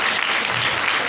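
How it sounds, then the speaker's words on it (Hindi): Loud, dense applause from an audience at a church Christmas drama, a brief burst of many hands clapping that cuts off abruptly. "जोरदार तालियां बजा सकते हैं।"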